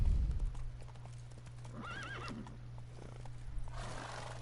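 Roach the horse in The Witcher 3 neighs in a wavering whinny midway while clip-clopping hooves trot along under steady background game ambience, with no talking.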